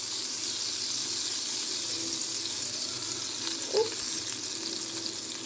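Melted butter sizzles steadily in a hot pan, a constant bright hiss with one brief louder crackle partway through, close and alone without talk.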